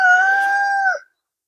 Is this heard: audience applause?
no